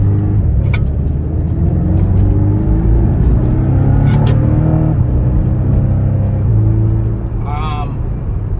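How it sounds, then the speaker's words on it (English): Throaty exhaust of a turbocharged four-cylinder Porsche rumbling steadily as the engine pulls through gears, rising and dropping in pitch, with brief pops near the end. "I've come to appreciate a aggressive sounding exhaust on a high performance 4-cylinder, even with forced induction"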